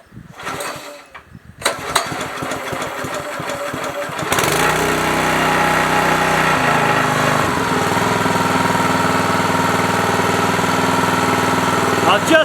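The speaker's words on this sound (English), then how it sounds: "I'll just let it idle for a minute or two, get the oil all through it." The new small engine fitted to a wood splitter is pulled over with a few sputtering cranks, catches, then settles into a loud, steady close idle that runs on evenly.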